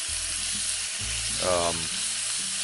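Chunked pork shoulder browning in a Dutch oven gives a steady, close sizzle with a low underlying rumble, swelling briefly midway, and no voices.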